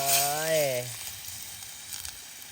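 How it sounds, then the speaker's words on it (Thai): Curry paste and coconut milk fry in a pan, a loud sizzle under the stirring that fades to a quieter, steady crackle as a voice briefly sounds at the start. "แกงแล้วก็ตามด้วยกะทินะครับ แล้วก็คั่วให้เขาเข้ากัน ละลายลงไป"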